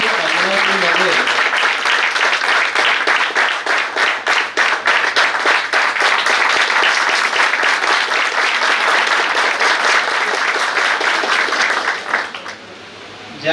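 Loud, sustained applause from an audience at a World Pharmacists Day session on drug resistance, dense clapping that holds steady for about twelve seconds before dropping away.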